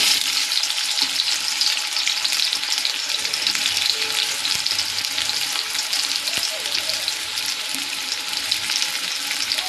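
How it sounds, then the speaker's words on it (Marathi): Onion sizzling and crackling in hot oil in a pan, a steady loud frying hiss throughout with occasional stirring and faint kitchen clatter, no talk. "आता या तेलात टाकणार आहे कांदा."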